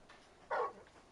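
A big dog in the Final Fantasy XVI video game gives a single short whimpering yelp, faint and brief, over a quiet background.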